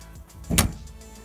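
A roof box lid closing on a Land Rover Discovery 3 (LR3) fitted with a solar panel: one firm thud that stands out from low background noise.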